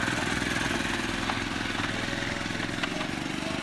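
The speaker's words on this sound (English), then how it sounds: "Simply take a seat at your table and rev that shit up." Small motor on a homemade motorized table revving steadily, a loud continuous buzzing engine drone with no talking.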